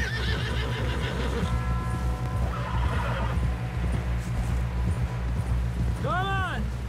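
A horse in the Red Dead Redemption video game clip-clops steadily and whinnies loudly near the end, over a low rumbling background.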